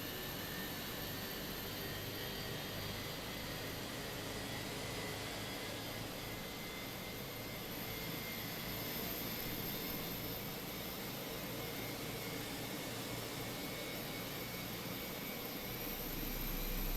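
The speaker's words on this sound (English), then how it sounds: "We'll be taxiing out with engine 1, so start that one up first." Airbus A320 jet engine spooling up in a flight simulator, a steady broadband roar with a high whine running throughout, continuous and moderately loud with no talking.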